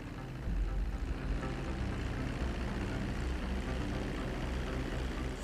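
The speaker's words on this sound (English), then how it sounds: "Ah, Trevor used his own plane." A private jet flying in Grand Theft Auto V, giving a steady, dense engine drone that holds at an even level throughout without voices.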